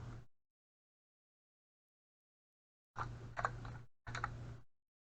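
Computer keyboard keys pressed while working in a Korean word processor, a short burst of clicks followed after a pause by two longer runs of close, quiet typing.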